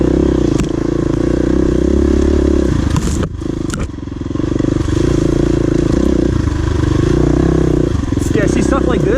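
A KTM 350 EXC-F dirt bike ridden on a wooded trail at NATRA in West Point, Tennessee, its engine droning loud and steady with brief dips and rattling clatter, while a rider talks over it.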